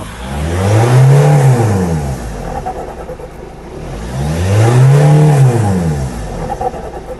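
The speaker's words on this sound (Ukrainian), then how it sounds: "Зараз будемо давити на педальку і дивитися на тиск в турбіні." A 2007 Mitsubishi Outlander 2.0 turbo engine with turbo overboost and EGR fault P0487 revs up twice, each time rising to a loud roar and falling back, with a steady idle between.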